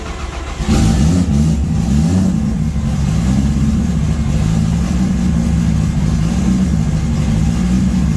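A Toyota Supra MK4 engine cranks and catches, then holds a loud, steady, throaty idle with light revving. It is close up and continuous, with no talking.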